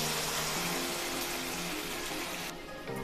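Cooked dal poured into a pan over turmeric, giving a steady, close liquid pouring and gushing sound that runs throughout and eases near the end.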